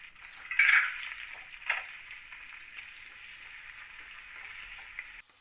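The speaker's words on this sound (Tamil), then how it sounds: "இதையும் ஒரு 2 நிமிஷம் வதக்கி விட்டுறலாம்" Onions, tomatoes and green chilies sauté in a pan, a steady moderate frying hiss with a couple of sharp utensil scrapes early on, then a gentle continuous sizzle.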